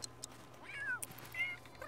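Two soft, drawn-out meows from a cat in The Sims video game, spaced about half a second apart over a quiet background.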